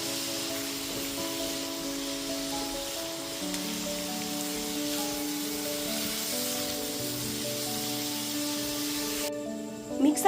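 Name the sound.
onions frying with salt in pan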